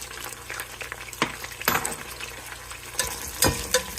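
Onions frying in a pan for veg fried rice with a soft sizzle, broken by several scraping stirs and clatters of a spatula.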